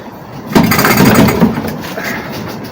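An old Seagull outboard boat engine takes a pull start, giving a brief sputtering mechanical burst around half a second in that fades out over the next second or two without running on.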